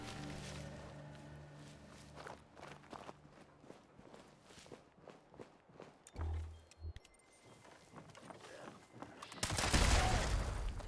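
In the video game Fallout 76, a sequence of sharp footstep-like thuds gives way to a sudden low boom, then a loud, noisy burst of rumble and debris near the end.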